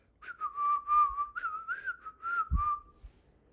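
A person whistles a bouncy, high melody imitating a Dixie musical car horn, clear and close, running for about three seconds.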